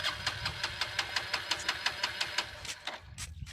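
A motorbike engine starts and runs with a quick, even chug of pulses at moderate distance, then drops away in the last half second.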